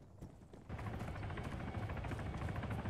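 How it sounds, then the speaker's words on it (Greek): Military helicopter rotor in the video game Arma 3, a steady loud thumping drone that swells in after a brief quieter start and holds throughout. "απομακρυνθείτε από τα ελικόπτερα αυτά"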